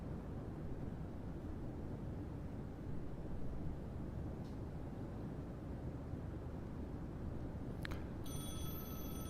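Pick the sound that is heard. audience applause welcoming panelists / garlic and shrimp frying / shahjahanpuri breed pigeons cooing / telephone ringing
telephone ringing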